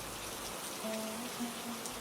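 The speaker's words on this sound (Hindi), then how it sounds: "बारिश अब हल्की फुहार में बदल चुकी थी।" Light drizzling rain falls steadily and softly, a continuous gentle patter with no speech over it.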